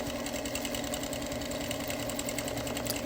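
A sewing machine quilts around an appliquéd fabric component, its needle running in a fast, steady, even chatter with no pauses, close and moderately loud.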